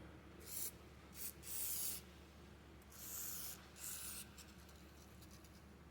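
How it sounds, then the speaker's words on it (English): WD-40 sprayed onto a vintage axe head with a metal wedge, several short hissing bursts of spray, faint and close, separated by quiet pauses. "Good old WD-40."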